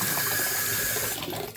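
Water running steadily from a tap into a basin where ducklings swim, a continuous hiss and splash that thins out near the end as the flow is shut off.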